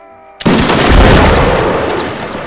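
A musket volley from a line of soldiers in Mount & Blade Napoleonic Wars erupts as one sudden, loud, close blast that rolls into a long fading rumble.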